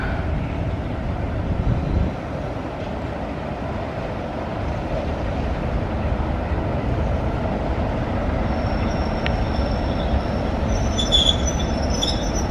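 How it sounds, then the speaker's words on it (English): A Class 33 diesel locomotive hauling a train rolls into a heritage railway platform at Blue Anchor or Watchet, with a steady close rumble of wheels and a thin wheel squeal rising near the end. "There comes the 33 hauled train."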